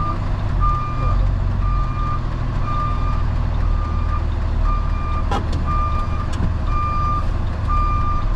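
A big truck backs up, its reverse alarm sounding a steady run of evenly spaced beeps over the low rumble of the engine, with a few sharp clanks partway through and no talking.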